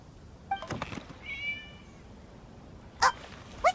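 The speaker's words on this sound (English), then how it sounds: "It was just a cat." A cat meows in the video game Genshin Impact, a few short separate mews with quiet pauses between them over a faint hiss.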